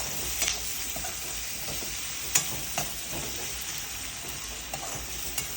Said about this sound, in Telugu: ఇది బాగా వేగాలి